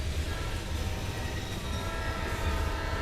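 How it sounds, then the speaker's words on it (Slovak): A train rumbles through a tunnel in a video game, a steady loud roar and rattle heard alone with no talk for the whole clip. "A bacha, ide vlak, ide zľava."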